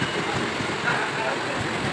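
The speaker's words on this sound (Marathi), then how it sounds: "आपली पुरा लोकल आली आहे," A local commuter train rumbles steadily into a station on a rainy day, a continuous broad mechanical roar at close range throughout.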